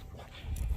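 A happy dog pants heavily at close range with a faint whimper, the breathing growing louder toward the end of a brief moment, with no talking over it.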